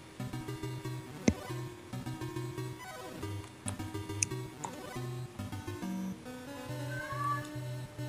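A domestic cat meows repeatedly in short, loud calls close by, some stretching into longer wails, over a faint ticking background.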